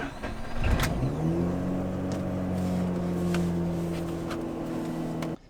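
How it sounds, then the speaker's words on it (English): A Mazda RX-8 rotary engine runs close by, settling from a brief blip into a steady, smooth hum with a low humming drone at moderate volume, cutting off at the end. "we're getting some temperature in the car, so we're good to set off carefully, not going high on the revs"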